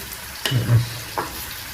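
Onions frying in a pan for Bombey-style pav bhaji, a brief sizzle flaring up twice as they are stirred, close and fairly loud over a quiet kitchen background.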